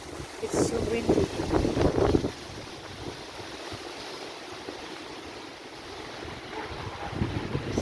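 A strong gusty wind in the Limassol town centre, Cyprus, roars steadily against the microphone in a low, continuous rush, with someone speaking briefly at the start and end.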